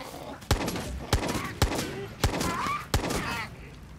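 Gunfire in the Far Cry 6 video game comes as five sharp, loud shots spaced roughly half a second apart, each followed by a short decay, with faint game sounds between them.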